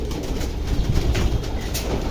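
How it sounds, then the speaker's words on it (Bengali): A female racing pigeon coos softly up close, the low murmuring calls partly buried under a loud, steady rumbling background. "এটি হলো কবুতর দেখেন"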